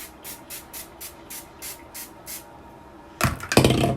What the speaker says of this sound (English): Spray it down with the thermal protectant.